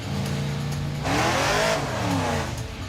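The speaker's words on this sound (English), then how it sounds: "It just spins the tires." A 1956 Chevy field car with a Barney motor revs hard and spins its tires, the engine note rising sharply with a loud burst of tire noise in the middle, then easing back.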